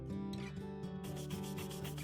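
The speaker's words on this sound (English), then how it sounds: "Be prepared for a lot of scrubbing because you will scrub your little heart out." Furniture stripped with oven cleaner is scrubbed by hand in repeated rubbing strokes, close and steady, over a bed of background music.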